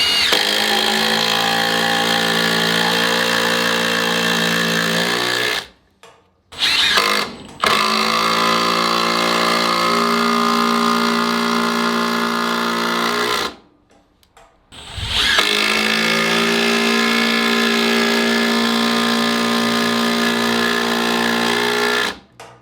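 A Milwaukee M18 FID3 impact driver sets 120 mm screws at speed 2 with a loud, steady hammering whine, running in three long bursts separated by brief pauses.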